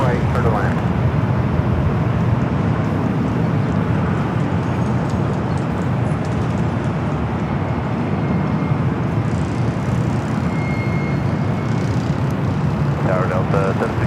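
A Delta Boeing 767 Heavy lands on runway 24 right at LAX, its engines a broad, steady roar throughout, with a radio voice and other airport noise faintly mixed underneath.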